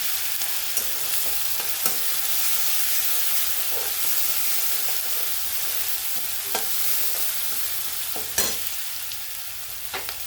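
Garlic, green chili and cumin seeds are sautéed in a hot pan with a loud continuous sizzle, marked by occasional spatula scrapes and taps at irregular intervals.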